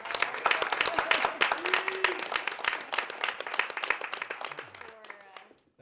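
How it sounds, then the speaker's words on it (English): A town planning workshop audience claps for the public works crew, a sharp close patter of a modest group that tapers off near the end, with a voice briefly heard over it. "Everybody needs to give Kevin and Public Works a big round of applause."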